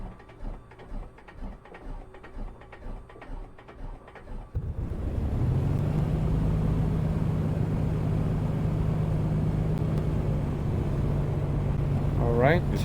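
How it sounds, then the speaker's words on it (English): Aircraft engine in a flight simulator cranking and catching, then settling into a steady, loud low drone that runs to the end, with softer rhythmic mechanical sounds before it starts. "now let's go and start the engine"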